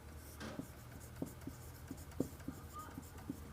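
Chalk or marker taps and scratches across a classroom board in a short run of light, irregular strokes, faint and close, with no speech over them.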